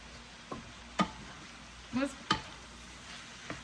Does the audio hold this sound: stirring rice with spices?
yes